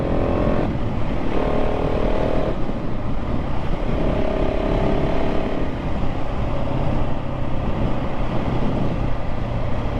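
A KTM 690 SMC-R single-cylinder motorcycle rides along with a loud, continuous engine drone and wind rush, the pitch shifting a few times as gears change.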